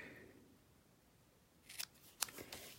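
Scissors snip through card paper in a few quick, crisp cuts near the end, close and fairly soft after a quiet stretch.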